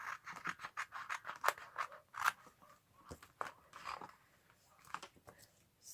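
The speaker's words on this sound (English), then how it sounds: "I can cut this out without getting my glue on my good scissors." Repeated crisp snips of scissors cutting through card, close up and steady, each cut a short crunchy slice in an uneven rhythm.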